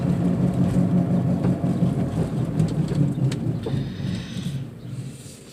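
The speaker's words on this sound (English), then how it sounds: "Yep, sounds like a wheel bearing to me." A worn wheel bearing on a moving Chevy Aveo makes a steady low rumbling growl under road noise, loud and continuous throughout, easing off slightly toward the end.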